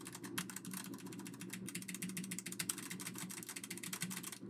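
Rapid, steady clatter of computer keyboard keys being typed, close and continuous, with no voices.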